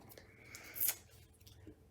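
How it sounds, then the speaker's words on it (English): Scissors snip baker's twine with a single quick, faint cut in a quiet room. "and get my scissors."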